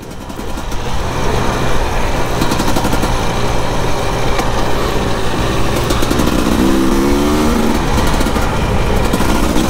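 A two-stroke 300 Husqvarna dirt bike engine buzzes loudly and continuously close by, revving with a raspy crackle throughout as it rides over red dirt.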